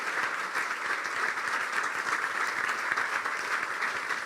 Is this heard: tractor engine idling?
no